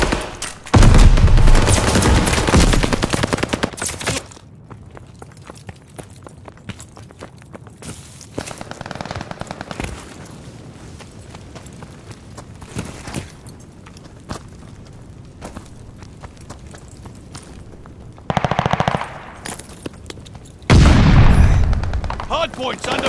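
Rapid automatic gunfire and explosive booms in a Call of Duty Vanguard hardpoint multiplayer match, coming in loud bursts separated by quieter stretches of scattered shots, footsteps and announcer voice lines.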